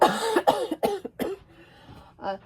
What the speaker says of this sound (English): I might be coughing a few times this week.